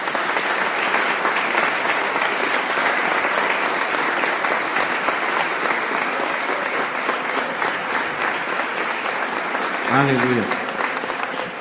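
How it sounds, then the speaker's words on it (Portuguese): Church congregation clapping steadily together for the full length, a dense sustained applause with a brief spoken exclamation near the end. "Vamos aplaudir ao Senhor."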